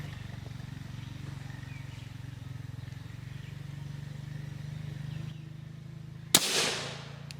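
A single sharp gunshot from a 5.7x28mm firearm loaded with 40-grain FMJ ammunition cracks out close and loud, then decays into a brief ringing tail after a steady low background hum.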